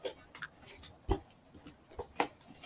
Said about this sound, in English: it's got this nice, cool little silver seal, which we will cut open